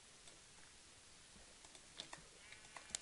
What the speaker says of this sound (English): you can hear my mouse clicking also